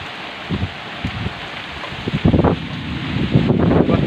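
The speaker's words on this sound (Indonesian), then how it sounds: "ini hujannya gede, anginnya gede teman-teman" Heavy rain and strong gusting wind batter a chicken coop, a broad hissing roar with bursts of buffeting that build louder toward the end, with no voices.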